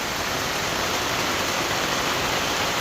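Heavy rain pours down steadily and loudly, a dense unbroken roar of drops close by throughout, with no voices.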